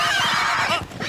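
A horse neighs loudly and close in a French comedy series, a single long, quavering whinny filling the whole brief moment with no talk over it.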